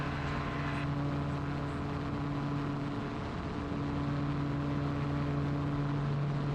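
Gyroplane engine at full power climbing out after takeoff from an uncontrolled airport, a loud, constant droning hum with steady tonal whine, heard close from inside the cockpit with no pauses.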